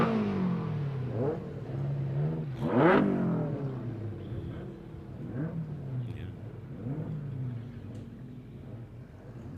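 Stock car number 92 at a Border Stockcars oval meeting, engine revving and fading as it laps, with rising and falling passes over a steady mid-level rumble and a louder surge near the start.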